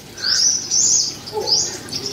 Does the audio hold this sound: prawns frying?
no